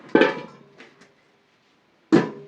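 A bowl is set down beneath a pot while tomatoes are pickled at home, giving two sharp knocks of dish on a hard surface with a short rattle after the first and a pause between them.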